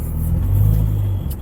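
Renault Clio track car engine idling close by, a brief loud low rumble with a slight rise in revs, no talk.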